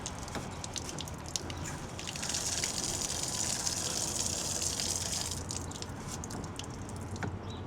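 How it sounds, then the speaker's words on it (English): Water gushes from the low point drains of a basic travel trailer being dewinterized, a steady hissing outflow that swells in the middle and eases off, heard close and alone. "We'll just open up the low point drains a little bit here."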